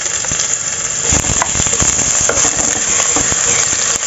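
Crushed shallots and garlic sautéing in a hot pan for fried rice vermicelli, a dense continuous sizzle with sharper crackles and occasional stirring scrapes, close and loud with no talk.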